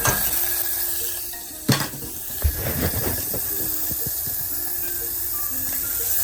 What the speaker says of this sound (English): I need to saute my vegetables, so that's why it's sizzling.